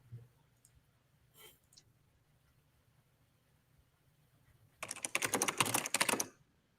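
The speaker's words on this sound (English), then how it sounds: "Is that typing noise part of the video?" Quick clattering keystrokes on a computer keyboard come in a dense burst near the end, preceded by a couple of faint isolated clicks in an otherwise quiet room, close and moderately soft.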